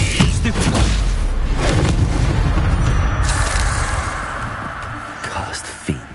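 An Incendio fire spell is cast in a Hogwarts video game, heard as loud, sustained booming and crackling bursts that fade toward the end, ending in one short sharp pop, with a voice speaking over part of it.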